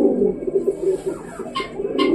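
A racing pigeon coos close by in low, throaty rolling phrases, with a couple of brief higher chirps breaking in toward the end.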